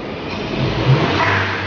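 A VW Up TSI tuned to Stage 2 revs and holds near 4000 rpm, a steady, close engine drone that swells slightly midway through the short burst.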